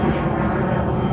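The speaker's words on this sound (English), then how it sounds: "that's a plane overhead" A propeller or jet airplane passing overhead outdoors gives a steady, loud broadband roar that holds for the whole moment without a break and has no talk over it.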